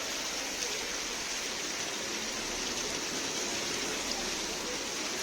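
Steady rain falls outdoors at a roadside while a truck waits to be loaded with potatoes, a constant even hiss of dense drops with no break, moderately quiet.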